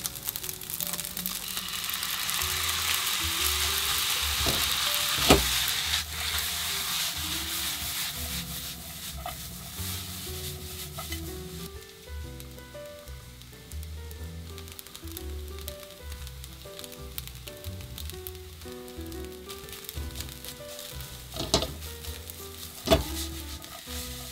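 Rice, egg and instant noodles stir-fry in a pan, with repeated scraping and rubbing of a spatula over a steady sizzle and occasional sharp clacks against the pan.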